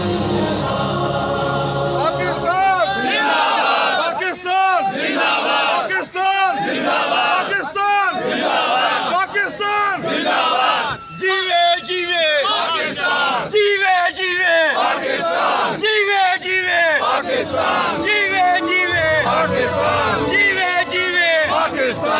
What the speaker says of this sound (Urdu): اس موقع پہ نعرے بھی لگائے گئے، وہ بھی ہم آپ کو سنواتے ہیں، ذرا غور سے سنیے۔